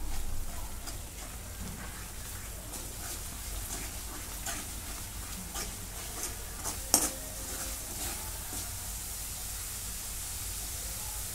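Mixed vegetables with garam masala and homemade spice blend being stirred in a pan, a steady soft scraping and sizzle throughout with one sharp clink of the spoon against the pan near the end.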